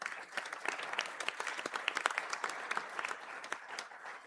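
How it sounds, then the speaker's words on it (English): Applause from the audience at a university graduation conferring ceremony, a dense, even patter of many hands clapping that continues steadily throughout, heard from a moderate distance. "Please give the students from the Bachelor of Business in Retail Management a round of applause."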